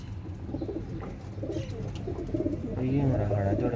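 Pigeons at a home pigeon loft coo softly and repeatedly nearby, with someone speaking over them.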